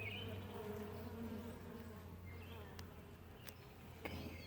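Honeybees droning at an open hive during a spring brood inspection, a dense steady buzz close to the comb with a few sharp clicks and brief louder passes, no speech.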